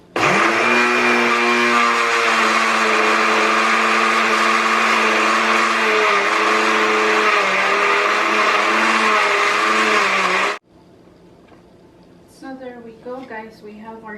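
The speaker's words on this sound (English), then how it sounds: "I'm gonna start blending" A loud electric blender blending vegetables with serrano peppers whirs steadily up close for about ten seconds, its motor pitch dipping slightly as it chops, then cuts off abruptly before a voice speaks.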